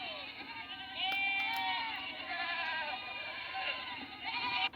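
Young goat kids of Sarıkeçili nomads bleat repeatedly in the mountains, overlapping high, wavering cries, several animals calling at once nearby over a steady outdoor background.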